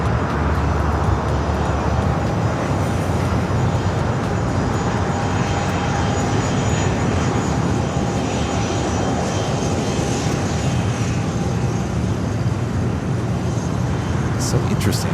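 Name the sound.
Lufthansa Airbus A380 taxiing at LAX airport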